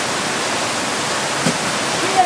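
Deep water swirling and churning about five metres below, a steady broadband rush of flowing water holding at an even, fairly loud level with no voices over it.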